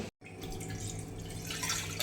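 Water is poured into a cooking pot used for roasting, a close steady splashing and trickling after a brief silent gap at the start.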